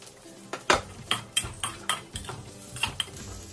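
Garlic and diced carrots stir-fried over high heat in a wok for steak fried rice, heard as a series of sharp metallic scrapes and clanks of a utensil against the pan, about eight distinct strikes, close and fairly loud, with no talking.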